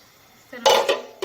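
A spoon scrapes and clanks against a cooking pot while chicken pulao is stirred, a few loud metallic strokes after a quiet start.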